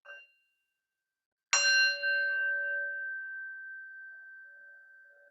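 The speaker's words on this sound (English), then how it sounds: "just taking the sound of the bell" A single bell struck once during a gentle Kripalu yoga session, a clear ringing tone that rings out alone in a quiet room and slowly fades over several seconds after a faint earlier tap.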